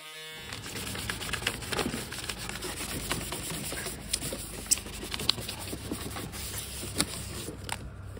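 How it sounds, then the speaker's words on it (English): Low grit sandpaper worked by hand over a wooden body for a custom travel guitar: a steady, close scratchy rasp with irregular strokes and occasional sharper ticks throughout. "Do a nice, really low grit sandpaper on top to make everything real nice and smooth like this side is."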